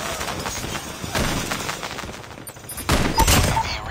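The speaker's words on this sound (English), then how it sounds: "Sentry gun deployed." Automated sentry gun firing in a first-person shooter video game, rapid bursts of gunfire with layered explosive booms from the game battle, loud and continuous through the clip.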